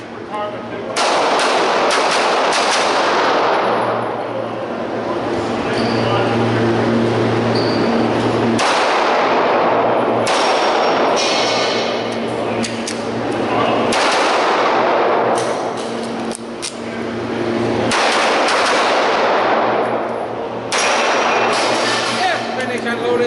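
Pistol gunfire at an IDPA shooting stage with an Enhanced Service Pistol, rapid strings of close, loud shots in several bursts separated by brief pauses, with range commands spoken between them.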